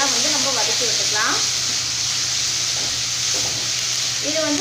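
Tomatoes and fresh curry leaves sautéing in a pan for a potato and pea kurma, a steady close sizzle with faint stirring scrapes throughout, no voices.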